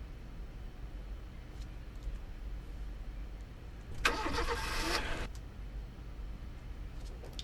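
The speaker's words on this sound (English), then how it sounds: "split the car acceleration and the car starting and the accelerating" Car engine cranking to life, a short loud burst of turnover roughly one second long amid a quiet low idle rumble, with faint ticks before and after.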